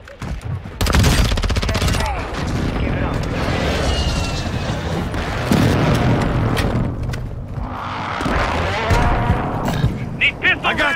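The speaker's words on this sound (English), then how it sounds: "Friendly airstrike on the way." Warzone 2 airstrike on Ashika Island: heavy booming explosions roll in alongside rapid gunfire bursts, loud and sustained throughout, with game radio chatter over the top.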